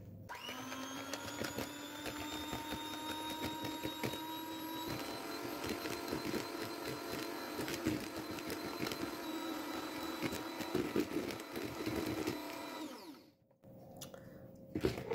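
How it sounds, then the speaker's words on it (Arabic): An electric hand mixer beats eggs and sugar for an apple mini cake: a loud, steady motor whine with rattling beaters runs continuously, then briefly stops and restarts near the end. "خديت هنا المضرب، غادي نحاول نطلع هاد البيض والسنيدة."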